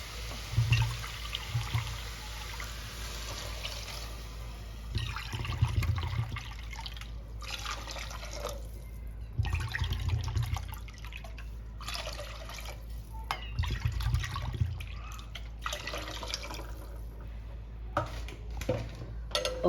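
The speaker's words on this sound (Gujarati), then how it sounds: "તો હવે આપણે આની અંદર પાણી એડ કરી દઈશું." Water poured into a pot of vegetable manchow soup, with splashing and pouring in several bursts alongside clanking of a metal pot and utensils, close and moderately loud.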